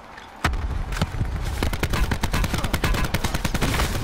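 Gunfire in the video game Call of Duty: Blackout, loud and close, with a sharp opening shot followed by rapid bursts of automatic fire that run continuously to the end.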